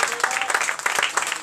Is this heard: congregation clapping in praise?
yes